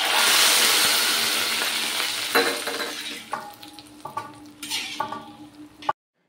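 Dried red chillies, black mustard seeds and curry leaves spit and crackle in hot mustard oil for a sambar tempering, a loud burst of sizzle that fades into scattered pops and utensil clinks before cutting off abruptly.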